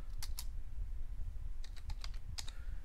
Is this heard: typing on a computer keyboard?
yes